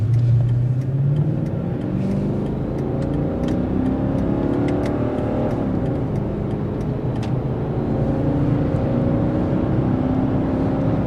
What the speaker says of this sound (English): Got the E55 AMG on its go, and currently got it in manual mode, driving up to Bodega Bay